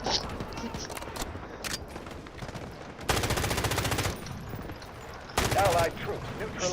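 Automatic gunfire in the shooter game Delta Force, with rapid bursts and two long sustained volleys among scattered shots, loud and close, with players talking.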